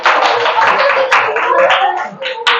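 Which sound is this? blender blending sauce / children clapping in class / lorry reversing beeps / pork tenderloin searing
children clapping in class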